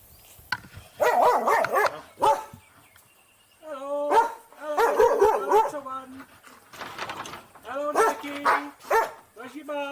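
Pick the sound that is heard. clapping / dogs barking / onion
dogs barking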